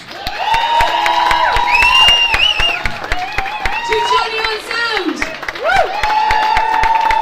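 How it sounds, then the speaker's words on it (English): Burlesque festival crowd in Athlone clapping and cheering with whoops and shouts while a host speaks loudly over the noise, claps popping steadily throughout. "Give a round of applause to our beautiful,"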